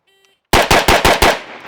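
A SIG 556 rifle fires five rapid, loud shots in an even rhythm at close range, each sharp crack ringing briefly before the next.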